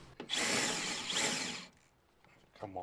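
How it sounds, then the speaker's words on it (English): A battery power drill bites in loudly for over a second, drilling holes for rivet nuts, grinding and whirring close by, then stops; faint handling noise follows. "Just don't let me drill these wires"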